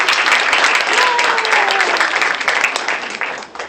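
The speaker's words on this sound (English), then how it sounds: "Can you please give her a round of applause?" Sustained round of applause from a symposium audience, dense and steady throughout before tapering near the end, with a brief voice rising faintly above the clapping.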